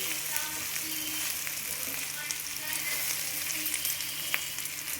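Bitter gourd curry with onions frying in a pan, a steady close sizzle and crackle with occasional scrape and clatter of stirring, no talk over it.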